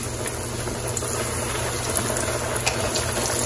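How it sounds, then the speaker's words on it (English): Breaded chicken pieces for a gold fever sandwich fry in a pot of hot oil, giving a steady, dense bubbling hiss that stays even and fairly close throughout with no voices. "I'm gonna fry these for about 4 or 5 minutes"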